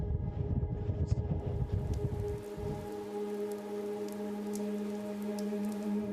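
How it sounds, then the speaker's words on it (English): Steady rain patters on surfaces outdoors at a desert film location. The hiss is dense and continuous, and a low rumble in the first half drops away, leaving the rain alone. "It's raining and we've just lost the sun"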